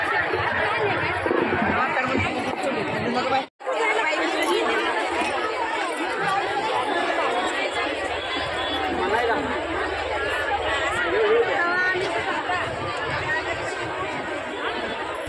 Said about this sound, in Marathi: गर्दी जरा झालेली आहे थोडी सर्वांनी लक्ष द्या